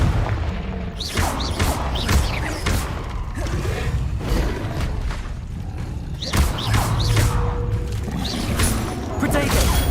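Booming fire-spell blasts from the Confringo spell in Hogwarts Legacy go off repeatedly amid dense combat thuds, crashes and magical effects, with a voice speaking throughout the loud, busy mix.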